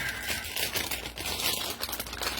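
Plaster bandages crinkle and rustle as they are pulled out for a home molding project, a dense, continuous papery crackle up close with no talking.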